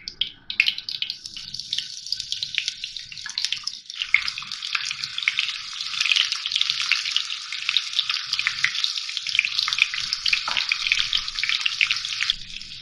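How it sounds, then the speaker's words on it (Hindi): Onions drop into hot oil for a black masoor dal tempering and sizzle loudly and continuously up close, a dense crackling hiss that holds steady throughout with no talk. "ऑयल थोड़ा गर्म हो गया, मैं प्याज डाल रही हूँ इसमें।"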